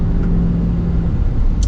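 A 2020 Chevy 3500 LTZ pickup with a 6.6 liter diesel engine accelerating, a loud close cabin rumble with a steady droning engine note, no voices.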